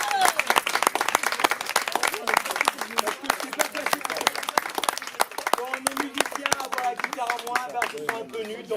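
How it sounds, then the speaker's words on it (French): Enthusiastic audience applause at a slam poetry evening in Vence, dense and continuous clapping from a crowd that stays steady throughout, with some voices and cheers mixed in. "Donc on applaudit encore très fort."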